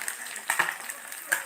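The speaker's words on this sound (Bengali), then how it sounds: "মাছ ফ্রাই করতেছি" Fish frying in a pan, a close crackling sizzle with sharp spits and pops scattered over a soft bubbling hiss.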